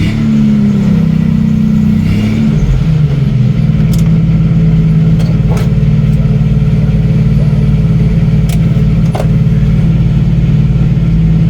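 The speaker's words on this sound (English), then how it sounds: "Let's rev it a little bit." A 1990 Jeep YJ with the 4.2L engine revs up close by, its low engine note rising over the first few seconds then holding a steady loud drone, with a few brief clicks on top and no talking.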